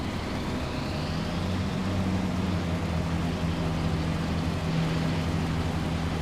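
Tractor engine in Farming Simulator 25 running at a steady drone with a low, even hum throughout, no talk over it.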